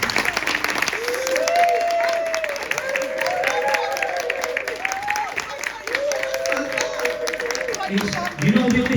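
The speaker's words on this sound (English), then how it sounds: "Give him a big round of applause." An audience at a comedy hypnotist show on the Grand Pier at Weston-super-Mare claps continuously while a voice talks over the top, with a louder burst of cheering near the end.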